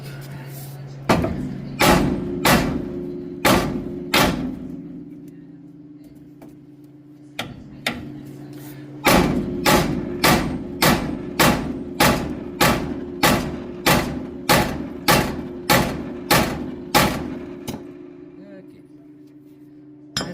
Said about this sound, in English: So I'm gonna hit it a couple times. Maybe it'll just pop right out.